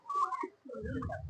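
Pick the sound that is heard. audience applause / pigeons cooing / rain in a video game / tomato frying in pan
pigeons cooing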